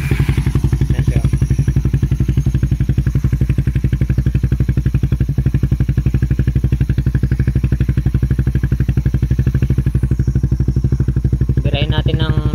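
Rusi Raider 150 FI motorcycle with a Red Leo power pipe exhaust idles steadily close by, a deep, bassy, even thumping pulse with a small throttle rise near the end.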